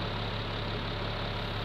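A CAT 3126 7.2-litre diesel engine idles in a steady, even rumble, close and continuous with no voices.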